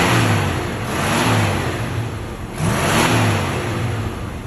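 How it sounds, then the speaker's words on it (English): A car engine revs twice in strong surges, each rising then falling back to a steady idle, heard loud and close at a classic car show with no talking over it. "can you rev the engine, please?"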